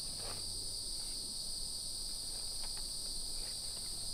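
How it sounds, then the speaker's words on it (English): Dense, continuous insect buzzing and high-pitched droning fill the air, steady and unbroken, with faint rustles underneath. "they are all over the place and they're buzzing"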